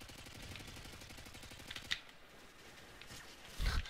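Automatic gunfire in Modern Warfare 2, a rapid burst of shots for about two seconds, fairly faint, then a pause and a single heavier boom near the end.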